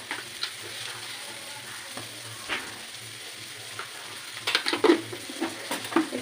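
Vegetable chowmein, Kolkata street-food style, fries in a pan with a low hiss as a utensil stirs and scrapes through the noodles, the clattering strokes growing busier and louder toward the end.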